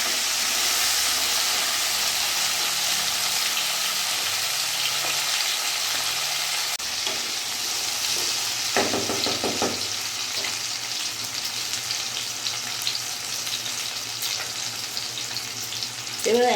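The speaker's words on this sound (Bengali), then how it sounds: "আমি কিছুক্ষণ এটা ভাজা ভাজা করবো নাড়াচাড়া দিয়ে" Rui fish and green banana fry in a pan over a medium gas flame, giving a steady, loud sizzle with occasional scraping stir strokes close by, with no talk.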